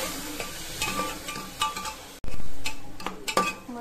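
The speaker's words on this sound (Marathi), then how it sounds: "मसाला छान मिक्स करून घ्यायचा।" Masala being stirred into vegetables and rice frying in a pan for fried rice, with a steady sizzle under repeated scraping and clinking of a spoon against the pot, louder in the second half; no talking.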